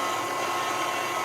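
Steady mechanical whir of an electric meat grinder mincing meat for Weisswurst sausage, loud and continuous without a break.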